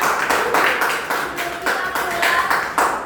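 Students in a classroom clap their hands together in bursts of appreciation, a close, uneven patter of several claps repeating over a few seconds.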